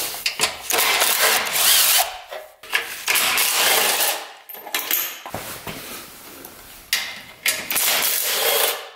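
A power tool spins bolts off an old barn-find mini bike that has not run in over 20 years, heard as several loud, close bursts of whirring with short pauses between them.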